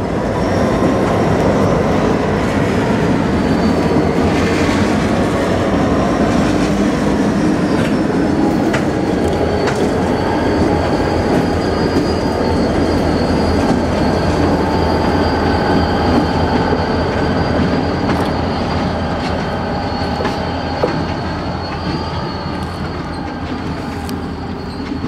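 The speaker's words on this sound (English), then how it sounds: "GLC cuts away from their train and heads for the Osborne siding to get in the clear." A freight train rolls steadily along the rails nearby, wheels rumbling and clacking with occasional high squeals, continuous and loud throughout.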